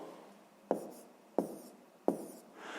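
Pen or pencil writing numbers on paper for a fifth-grade math exercise: soft continuous scratching broken by three sharp taps at even intervals, close and quiet with no voices.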